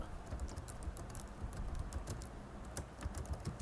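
Steady run of key presses on a computer keyboard while writing a post in a Google Classroom stream, fairly close and quiet, with irregular clicks and no talking.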